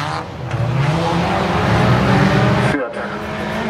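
A red Opel Corsa races in a youth-class autocross heat, its engine revving loudly and close with a brief tyre scrub as it passes. A commentator talks over the engine noise.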